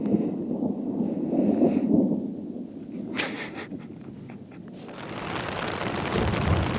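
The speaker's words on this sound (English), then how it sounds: "Get a big ol' storm cell coming right over us." A thunderstorm with rain passes over an outdoor camp, bringing low rolling thunder and a steady hiss of rain that grows stronger toward the end.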